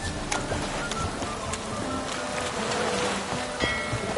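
Rain falling in The Witcher 3 video game, a steady close patter of drops on surfaces with scattered sharper taps, continuous and moderately loud with no talking.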